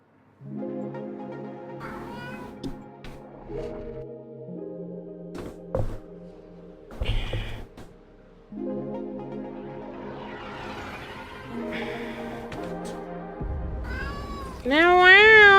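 A pet cat named Avara meowing repeatedly and insistently up close, with several drawn-out, wavering cries in a row and a louder, rising yowl at the end.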